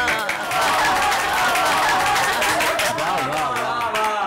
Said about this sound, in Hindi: इनकी शादी के लिए तालियां।